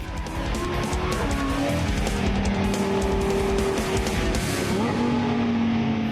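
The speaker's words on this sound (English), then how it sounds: "Put it into Corsa mode, and the rear end is playful and would like to break free." Lamborghini Huracán Tecnica driven hard in Corsa mode, its engine note loud and sustained, pitch climbing and shifting through gears with a brief drop near the end, with no talking.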